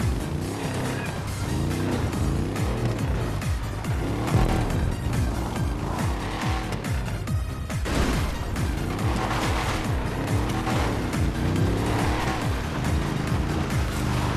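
A GTA 5 vehicle that can go anywhere, driven in-game with a continuous revving engine drone and shifting pitch, dense and steady throughout with clattering road noise, no voices.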